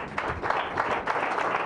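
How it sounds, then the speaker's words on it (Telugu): Church congregation clapping during a service, a dense burst of many hands applauding together, close and lively, lasting under two seconds. "ఎవరికి కావాలో వాళ్ళే చప్పట్లు కొడతారు."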